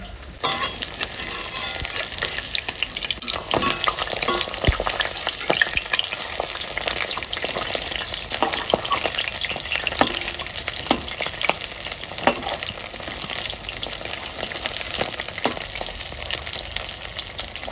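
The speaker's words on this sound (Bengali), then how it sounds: "এবার আমি এইভাবে সব বড়াগুলো ভেজে নেব" Pumpkin flower fritters frying two at a time in hot white oil in a kadai, giving a loud, continuous close sizzle with occasional crackles and spoon clinks, no talking.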